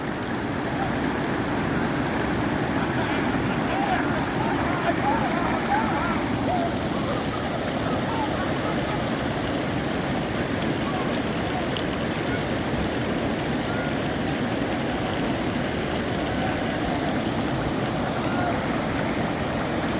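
Continuous rushing whitewater rapids heard from a raft carrying a guide and passengers, a dense, even roar of churning water with no talk over it.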